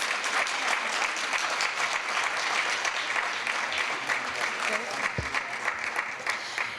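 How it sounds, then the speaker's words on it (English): A standing audience at a Hispanic Heritage Month celebration in Buffalo gives a long, steady round of applause for honorees, many hands clapping densely and evenly, with a brief thump near the end. "can have you guys stand one more time for one more grand round of applause"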